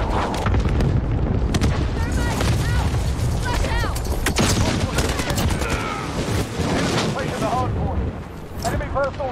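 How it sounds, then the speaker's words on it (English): Cluster strike explosions rolling across a Modern Warfare multiplayer match, a dense barrage of booms and gunfire crackling continuously at high volume, with mechanical clanks and bright tonal chirps scattered through. "Allied cluster strike in."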